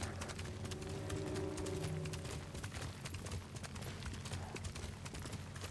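Steady clip-clop of horse hooves at a trot in Ghost of Tsushima over a low rumbling game soundscape, with a faint voice briefly in the background.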